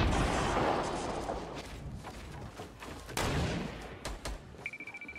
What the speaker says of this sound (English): Shooting a rocket